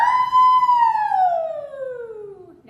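A singer's voice imitates a siren during a vocal warm-up, one long sliding tone holding high and then gliding steadily downward, loud and close.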